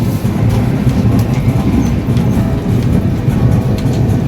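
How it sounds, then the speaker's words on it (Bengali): The Howrah–SMVT Bengaluru SF Express, train 12863, runs on rails in Odisha after leaving Balurgaon station, giving a steady, loud rolling rumble with faint rhythmic wheel clatter throughout and no voices. "বালুরগাঁও থেকে আমাদের ট্রেনটা ছেড়ে দিলাম"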